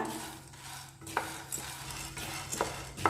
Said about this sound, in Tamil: அடுப்பை சிம்மில் வச்சு லைட்டாக வறுத்து எடுத்துக்கோங்க.